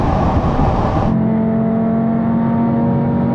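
A tuned Audi RS3 roars hard in a drag race, its loud, dense engine and road noise suddenly dropping to a steadier, lower droning tone about a third of the way in, as if shifting gear or pulling away.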